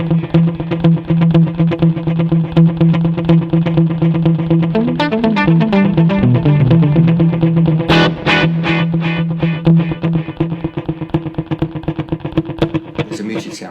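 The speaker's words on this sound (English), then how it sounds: "So we can do muting with a delay, and we get a really distinct sound" Electric guitar plays choppy, palm-muted notes that repeat and trail off in echoing delay repeats, loud and close, with a brief strummed passage midway.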